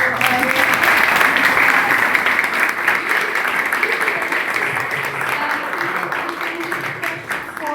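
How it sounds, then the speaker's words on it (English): A warm round of clapping from an audience after an evening show at a panel event, steady and fairly loud throughout, tapering slightly toward the end with some voices mixed in. "Please, once again, give a warm clap for"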